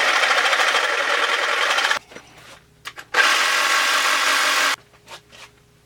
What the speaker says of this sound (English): Going to cut it in a couple of spots.